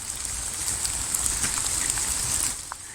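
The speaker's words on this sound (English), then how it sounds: "It's quite nice being out when it's raining though." Pouring rain during an outdoor walk, a steady close hiss of drops falling on surfaces with a few louder individual splashes, continuous and fairly soft.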